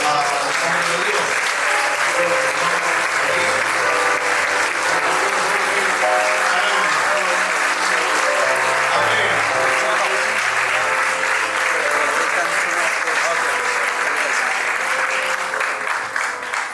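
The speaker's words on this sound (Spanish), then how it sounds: "póngase de pie y recibimos con un fuerte aplauso" A standing church congregation gives a loud, sustained round of applause at a Sunday service, clapping densely and evenly for a long stretch, with faint murmurs and music underneath.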